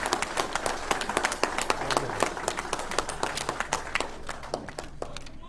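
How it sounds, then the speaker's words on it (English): A convention audience applauds a newly introduced president with steady, rapid clapping that carries on throughout at moderate volume, many hands sounding together with no speech. "please join me in extending a round of applause to our new president, Glenn Sedner."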